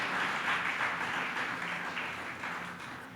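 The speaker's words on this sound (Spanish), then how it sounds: "Dale un aplauso al Señor, hermano." Applause for the Lord at a church service: a faint, steady wash of many hands clapping that holds evenly for several seconds, then thins slightly, with no voices over it.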